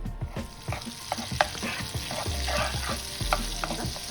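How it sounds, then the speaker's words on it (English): Garlic frying in butter in a pan, a steady sizzle with repeated utensil scrapes and taps as it is stirred, close and clear, with no talking. "butter into your pan, turn your garlic and let it release its flavor"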